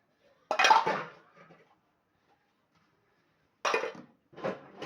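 Dishes, pots and pans being washed by hand, with two or three short bursts of clinking and scraping separated by a quiet pause.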